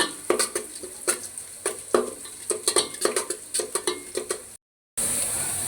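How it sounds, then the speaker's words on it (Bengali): Whole spices (garam masala, cinnamon, cardamom, bay leaf) stirred in a pan for pulao: a steady run of close, sharp spoon-on-metal scrapes and clinks in an uneven rhythm, with a faint sizzle underneath, then a brief gap and a steady hiss. "এখন নাড়াচাড়া দিচ্ছি।"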